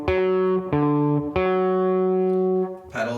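A distorted electric guitar sounding a slow chromatic pedal point over D: three long sustained notes, each freshly struck, ringing loud and close before a brief scratchy attack at the end.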